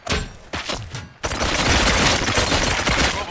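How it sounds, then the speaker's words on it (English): Rapid automatic gunfire in the video game RoboCop: Rogue City, a few short bursts followed by a sustained, loud stretch of shooting and impacts. "Gunshots? What's going on?"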